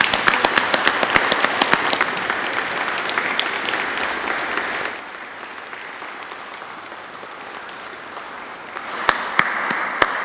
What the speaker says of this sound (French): On applaudit aussi les jeunes.